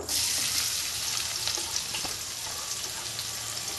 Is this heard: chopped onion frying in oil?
yes